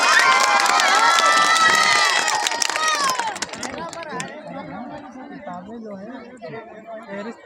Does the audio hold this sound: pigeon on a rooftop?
no